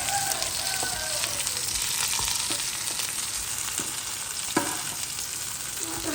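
Food frying noisily in a pan while being stirred and flipped, dense crackling sizzle with scraping spoon strokes and occasional sharp clinks, close and continuous, without speech.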